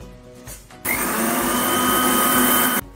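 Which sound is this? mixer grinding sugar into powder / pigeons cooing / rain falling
mixer grinding sugar into powder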